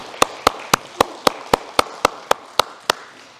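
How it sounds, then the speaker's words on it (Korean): Congregation clapping together in unison during a Sunday service at a Korean mission church in Berlin, about a dozen sharp, evenly spaced claps in a steady rhythm with no talking. "우리 하나님께 영광의 박수 크게 올리겠습니다"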